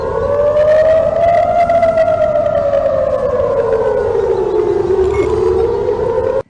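A civil defense air raid siren wails in Tel Aviv during rocket fire from Gaza, one loud, steady rising-and-falling tone that fills the whole stretch before cutting off abruptly at the end.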